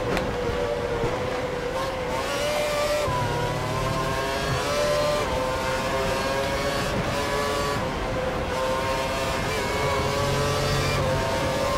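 A Formula 1 car in the F1 2012 racing game drives through the dirt at the Spanish race, its engine a loud, continuous high-pitched whine with pitch shifts as it accelerates and changes gear.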